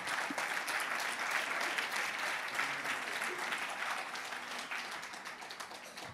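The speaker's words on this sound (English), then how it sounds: "Please clap. Clap for her." Steady audience applause for a speaker at a climate and agriculture event in Mauritius, dense even clapping that holds for several seconds and tapers slightly at the end.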